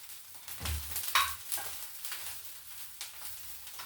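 Silver fish frying in a pan while being stirred Kenyan style, a soft steady sizzle with a few scraping stirs and clinks near the start, fairly quiet and close, without talk.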